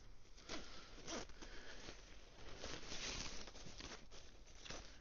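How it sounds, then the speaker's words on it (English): A zip being drawn closed on a Onewind camping tent, a continuous close raspy zipping with a few quick pulls and tugs, steady and fairly quiet throughout with no talking. "You just zip it up."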